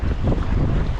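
Strong gusty wind roars steadily against the microphone while sea kayaking in rough water, with waves and water sloshing low beneath the buffeting, loud and continuous with no talk.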